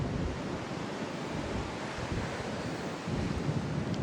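Ocean surf breaking below Fort Point under the Golden Gate Bridge, a continuous wash of waves with wind buffeting the microphone, heard alone without talk.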